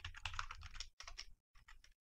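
Quiet, close keyboard typing while writing a Unity script, rapid bursts of key clicks broken by short pauses.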